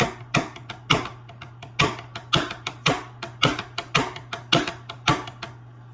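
Korean drum playing a basic beat: sharp, dry strikes in a steady, fairly quick rhythmic pattern, close and clear, with a low steady hum underneath.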